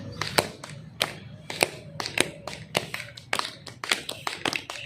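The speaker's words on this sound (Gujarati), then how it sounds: "આનું નામ છે ઢોલક તાળી." Rhythmic dholak-style hand clapping, a quick pattern of sharp claps and softer palm thumps repeating like a drum beat, close and clear with no talking.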